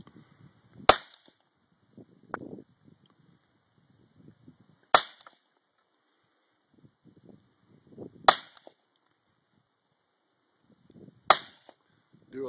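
Four loud, sharp gunshots from a gun fitted with a Double Zero suppressor, spaced several seconds apart, each with a short ringing tail, separated by faint handling noises.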